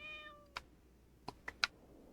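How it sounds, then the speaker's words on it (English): A cat meows once while being petted in the video game Dragon Quest X, a short clear call in a quiet scene, followed by a few sharp clicks and taps. "cat that I have is actually meant to be this one right here that I'm petting"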